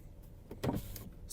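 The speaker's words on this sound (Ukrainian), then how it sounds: "Склопідйомники працюють." Electric power window motors in a Volkswagen Passat B5 whir briefly inside the car, a faint short buzzing run lasting about a second with a slightly louder burst midway.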